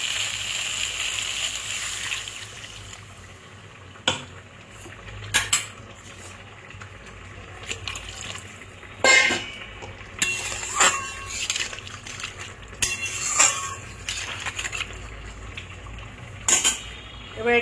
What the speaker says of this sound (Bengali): এই অবস্থায় আমি জল দিয়ে দেব।